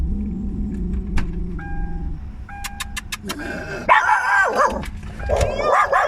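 A stray dog runs after a moving car, barking and yelping in several sharp close bursts over the low rumble of the car's engine.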